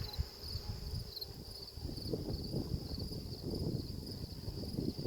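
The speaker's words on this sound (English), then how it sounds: "there's a bunch of bees that hang out around her" Bees hovering around a hive and its queen give a steady, close insect hum, with a faint high whine running over low rustling buzz throughout.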